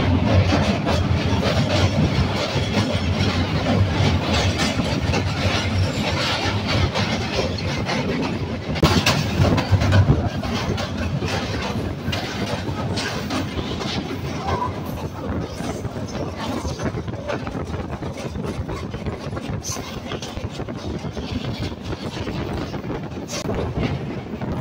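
The Kapotaksha Express passenger train runs on the Bangladesh line near Bheramara, giving a loud, continuous rumble of wheels on rails with faint clickety-clack and wind buffeting, heard from on board with no voices.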